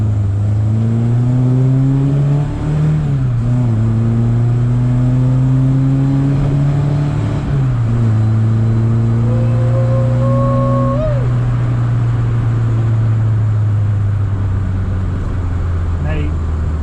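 A Ford car engine revs hard and accelerates, rising in pitch, dropping at a gear change, then climbing again, loud and close throughout, settling into a steady drone near the end.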